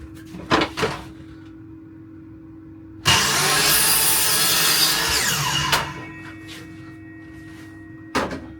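A hand saw cuts through a glued-up piece of scrap wood, a loud steady rasping stroke run lasting about three seconds, with a few knocks and taps of handling before and after.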